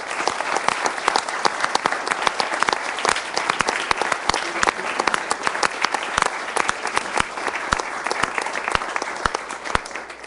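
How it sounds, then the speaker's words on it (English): Sustained round of applause from a council meeting audience honoring a departing chief, dense steady clapping from many hands holding level for about ten seconds before tapering slightly at the end. "I'd just like to honor him tonight with a round of applause"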